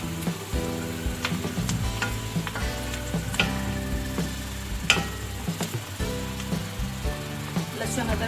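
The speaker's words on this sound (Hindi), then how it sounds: "इसमें सारे मसाले डाल दूंगी। 1 से 2 मिनट से भून लेंगे।" Softened onions and spices fry in a pan, a steady close sizzle with stirring scrapes throughout, under occasional background noise.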